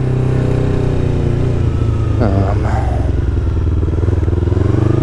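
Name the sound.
motorcycle engine revving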